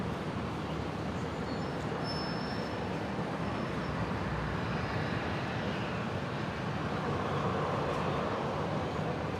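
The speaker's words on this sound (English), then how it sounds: "Virgin 1398 here, just beginning its taxi, heading off to Adelaide" Virgin Australia airliner bound for Adelaide beginning its taxi at Brisbane International Airport, a steady, distant jet engine rumble and whine holding evenly throughout with no talk.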